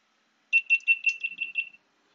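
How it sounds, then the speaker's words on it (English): A quick series of about seven short, high-pitched electronic beeps from a GoPro Hero 10 action camera at high volume, in a fast, even rhythm, close and clear against silence. "in order to turn the sound on, you can hear the beeps and all, and it's on high"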